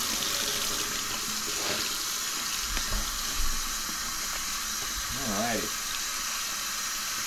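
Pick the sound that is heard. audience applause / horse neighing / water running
water running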